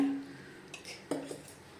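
A pressure cooker handled in a home kitchen while making sambar, giving a few faint metallic clinks and a soft clank against a quiet room background.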